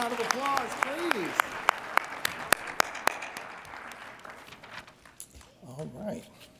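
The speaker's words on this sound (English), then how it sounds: "One more round of applause, please." Crowd at a Dr. Martin Luther King Jr. birthday celebration applauds, with sharp individual claps standing out near the front over a broader wash, a voice speaking at the start and again as the clapping dies away.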